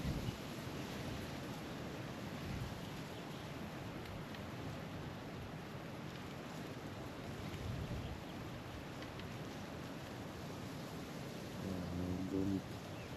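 Wind blows steadily by a river during fishing, a continuous rushing rumble with gusts and microphone buffeting, and a faint brief sound near the end.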